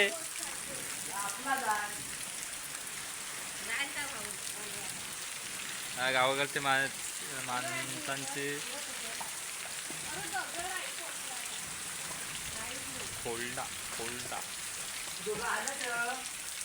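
Steady unseasonal rain falls in Konkan, a continuous hiss of drops on surfaces running throughout, with several people chatting and laughing over it.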